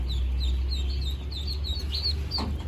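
Khaki Campbell, Jing Ding and native ducks in a hatchery flock, with a run of high chirping and quacking calls over a steady low rumble, fairly close.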